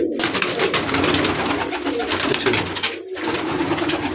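Fauji breed pigeons coo in soft, repeated throaty rolls close by, with a brief pause near the end, against a busy background and no talk.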